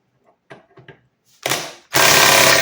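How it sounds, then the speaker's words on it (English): A Snap-on 18V impact wrench rated at 660 foot-pounds is trigger-tapped a few times, then hammers hard against a tight fastener of about 250 foot-pounds held in a vise, ending in a loud, sustained rattling burst up close. "will this 660 foot-pound snap-on impact remove a fastener that's about 250"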